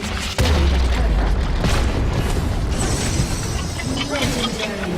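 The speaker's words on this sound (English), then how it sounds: "Your team has destroyed a turret." Loud boom and explosive burst as a turret is destroyed in League of Legends, followed by sustained crackling game effects and rumble, with a brief announcer-style voice over the game audio.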